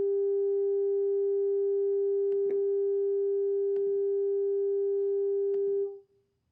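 A steady pure tone plays continuously from a computer speaker driving a flame tube demonstration, holding level for about six seconds with a few faint clicks and knocks over it before cutting off.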